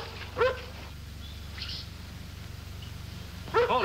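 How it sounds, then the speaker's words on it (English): A collie gives a few short, sharp barks at a distance, set apart by a pause, over a steady low rumble of outdoor background. "It looks like Jeff's dog, Lassie"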